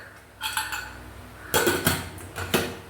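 A few sharp metallic clanks and scrapes of a pressure cooker lid being fitted and closed, in short bursts separated by quiet.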